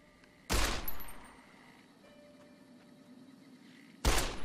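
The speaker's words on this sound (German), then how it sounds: "Dann schießen wir mal." Two loud gunshot bursts from Fallout: New Vegas, one near the start and one near the end, separated by a quiet stretch of low game ambience.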